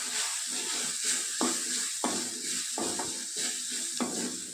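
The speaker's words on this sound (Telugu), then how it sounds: "అలాగే కొద్దిగా పసుపు వేసి మరోసారి కలుపుకుందాము" Coriander paste, turmeric and chopped vegetables being stirred in a hot pan, with a steady oily sizzle broken by a spatula scrape roughly every half second, close and moderately loud, with no voices.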